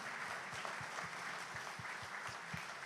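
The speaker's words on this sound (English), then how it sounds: "a round of applause for her" A conference audience applauds after an onstage conversation, a soft, distant and even patter of clapping that continues throughout.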